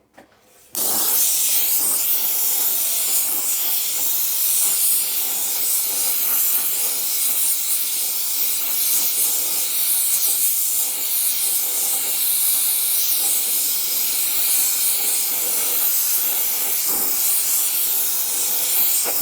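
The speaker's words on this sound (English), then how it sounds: "I'll put a little bit of heat on just with a welding torch just to get some preheat into the job" A welding torch flame preheats a cold, oily aluminium alloy engine sump, giving a loud, steady roaring hiss that starts abruptly after a second of quiet and holds unbroken to the end.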